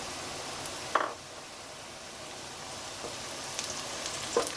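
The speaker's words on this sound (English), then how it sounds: "Give them a nice stir. And then add some chili flakes into the pot." Chili flakes stirred into a hot pot for seafood squid ink pasta: a soft, faint sizzle runs underneath, broken by a few sharp scraping knocks of a utensil against the pot, with no talking.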